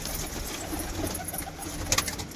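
Pigeons coo softly and repeatedly nearby, low throaty murmurs layered over a faint background hum.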